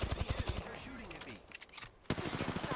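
Fast automatic gunfire in the battle royale shooter Apex Legends, played as Pathfinder. Two rattling bursts of rapid shots are split by a brief voice line in the middle before the shooting resumes sharply.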